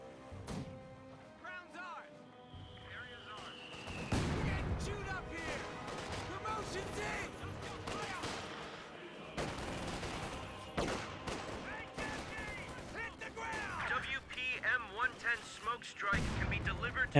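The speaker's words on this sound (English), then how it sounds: "MG34 getting some good hits." Machine gun and mortar fire in the Company of Heroes 2 game, with an MG34 firing: dense bursts of gunfire and thudding impacts run throughout, rising and falling in intensity with louder blasts near the end, under steady commentary.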